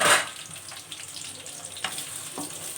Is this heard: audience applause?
no